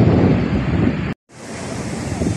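Ocean surf roaring against the shore in Aurora province during a typhoon, loud broadband wash mixed with heavy wind buffeting the microphone, cut by a brief dropout before the rush resumes.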